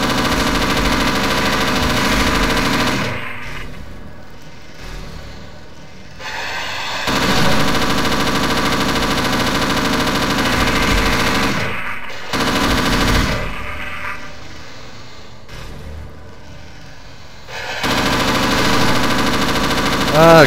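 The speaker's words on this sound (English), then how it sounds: "I'm literally blind firing with a machine gun I can't see." Sustained machine gun bursts in Half-Life Source, loud and rapid, in long stretches broken by short quieter gaps with game ambience.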